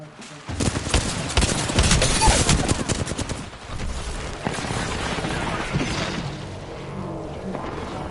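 Dense automatic gunfire and bursts of shots in the battle royale game Apex Legends, loud and sustained for most of the stretch after a brief quiet start, easing slightly toward the end.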